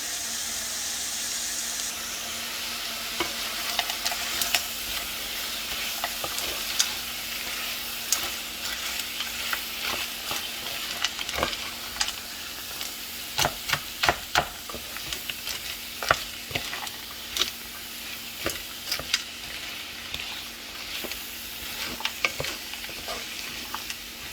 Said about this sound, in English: I'm going to go ahead and add my corn to it. And I'm going to stir that down.